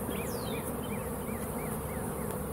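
Bee trapped inside a converted ambulance RV, buzzing steadily over a dense, noisy background with faint chirping birdlike tones above.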